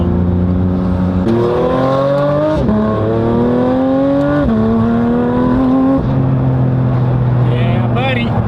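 A Porsche 992 GT3 RS with a titanium exhaust and its valves open revs loudly and repeatedly, climbing in pitch and dropping back over several pulls.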